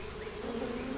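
Africanized honey bees buzz in a tropical jungle, a steady droning hum of many insects, continuous and moderately close, with no voices.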